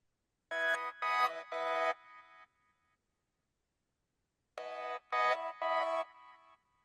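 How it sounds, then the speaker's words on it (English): An AI-generated music sample, pitched up an octave, reversed and gated, heard as two bursts of three bright, harmonic, chopped stabs each, separated by a gap of silence. "I've that's been pitched up an octave and reversed by the looks of it. And I've gated it so it only plays during the melody"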